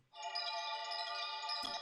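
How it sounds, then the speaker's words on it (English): A sustained bright, bell-like synthetic tone for an RPG revive or healing magic effect, dry without shimmer or frequency shifting, rising quickly and holding steady for under two seconds before cutting off, faint and alone. "Without the shimmer and the frequency shifter, it will sound like this."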